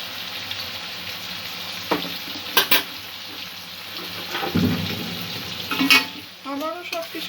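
Spice paste with a spoonful of sour yogurt sizzles and fries in a pan, steady hiss broken by sharp bursts of spattering and stirring scrapes near the end.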